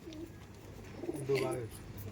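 A Madrasi pigeon coos softly and briefly in a quiet indoor setting, with faint background voices around it.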